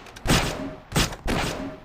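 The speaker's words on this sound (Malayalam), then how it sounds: "അവിടുന്ന് ഇവിടുന്ന് വെടി കൊണ്ടിരിക്കണം." Gunshots from the video game Gangster Crime come as three loud, sharp bursts at roughly even intervals over a short span, with no talking.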